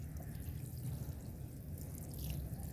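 Water is poured onto potted plants in moist soil, a faint continuous trickle and splash with soft dripping, steady and close, with no talking.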